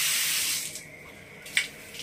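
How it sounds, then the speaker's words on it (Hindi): Water runs from a pipe into a newly installed Racold Omnis DG 15-litre geyser, a steady close hiss that fades partway, then a brief splashing burst. "पानी चालू हो गया,"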